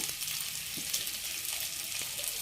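Quiet, steady sizzling of paneer biryani masala frying on a low flame with mint and coriander added, a soft continuous hiss with faint stirring taps.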